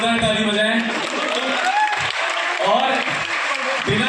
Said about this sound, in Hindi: ऊपर वाले भी अपने लिए जोरदार ताली बजाएं